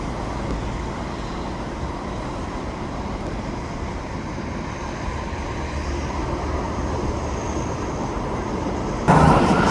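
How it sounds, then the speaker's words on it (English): An eastbound SkyTrain approaches the platform on an early morning, producing a continuous low rumble mixed with road traffic that swells gradually and jumps louder just before the end. "Incoming eastbound SkyTrain."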